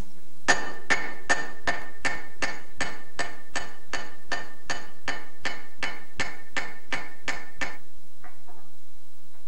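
Metallic hammer blows shaping silver ring out in a fast, even series of about twenty sharp strikes, close and bright, then stop, leaving brief faint clinks.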